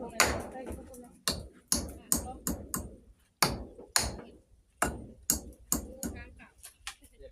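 Sharp percussive strikes land in uneven bursts, a dozen or so close-up hammer blows driving nails while building a house, with short pauses between, some speech faintly in between.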